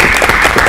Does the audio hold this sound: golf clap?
yes